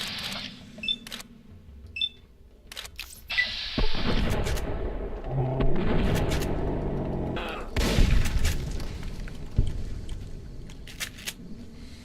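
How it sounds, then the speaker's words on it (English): Plasma grenades go off in the game Fallout: New Vegas, with several sharp bursts followed by a sustained, rumbling roar that swells and fades, close and loud, mixed with clicks and other game effects. "Whoever's giving you guys plasma grenades needs to stop."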